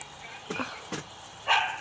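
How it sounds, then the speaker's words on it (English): Somewhere off in the distance a dog gives two or three faint, separate barks spaced about half a second apart in an otherwise quiet domestic space. "You hear the dog?"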